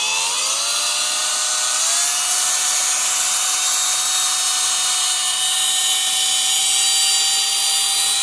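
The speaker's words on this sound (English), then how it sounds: "Now it's time for the power whisk." A loud, steady electric power whisk whirs through peanut butter chocolate fudge, its motor pitch climbing slightly early on and then holding a constant high whine throughout.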